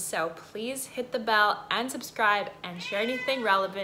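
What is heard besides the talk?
cat meowing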